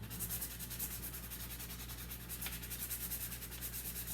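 Steady scrubbing of stuck-on food from a spatula while washing dishes, a continuous close rubbing, scouring texture with a faint low hum beneath and no talking.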